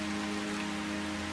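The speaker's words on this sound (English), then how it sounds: "The rain lashes at the granite ridge, wearing down the old rock." Steady rain beats on a granite ridge in the video game Calvino Noir, a dense even hiss with a low droning bed beneath, continuous and close throughout.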